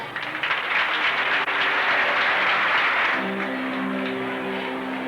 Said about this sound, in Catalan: demanem un fort aplaudiment per a tots ells